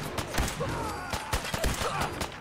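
Rapid bursts of gunfire in the video game Fallout 4, loud, close shots fired repeatedly in quick succession throughout, with a voice talking faintly underneath.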